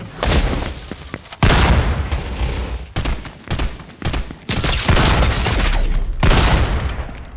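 Bomb explosions in Fortnite, a series of loud close blasts and crackling bursts in quick succession, each followed by a short rumbling tail, with no talk.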